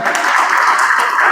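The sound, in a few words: applause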